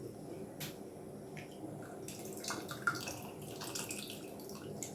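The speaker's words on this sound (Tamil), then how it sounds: "கொஞ்சமாக புளி தண்ணி சேர்த்துக்கலாம்." A thin stream of tamarind water is poured into a cooking pot for idli sambar, faint and close, with a soft splash and a few light knocks near the end.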